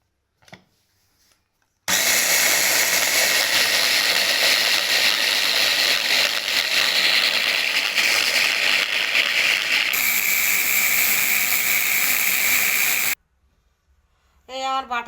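A mixer grinder whirs loud and steady for about eleven seconds while blending spinach for palak paneer, starting and stopping abruptly with a slight change in pitch midway, framed by near silence and brief kitchen noise.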